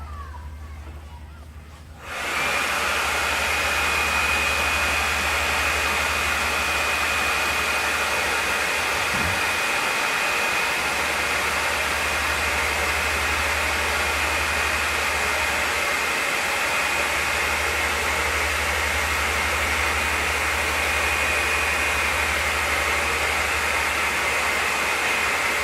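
A hair dryer blows on a watercolor painting to dry a green paint layer: a loud, steady, close whooshing roar with a low hum and thin high whine runs unbroken after a short quiet start.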